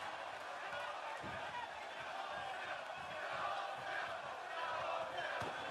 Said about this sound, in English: The crowd chanting "Kill, Owens, kill."